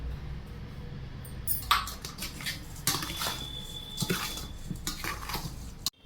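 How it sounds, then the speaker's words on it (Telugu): Amla (Indian gooseberry) pickle being mixed in a vessel: a spoon scrapes and clinks against the metal pot in irregular, fairly close strokes over a quiet background, with no talking. "ఇప్పుడు మనం పచ్చడి కలుపుకుందాం"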